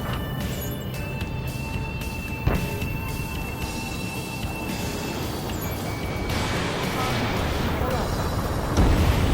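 Explosions and heavy booms in the combat flight game Ace Combat 7 sound over a constant roar of jet engines and rumble, with a sharp blast partway through and voices over radio chatter.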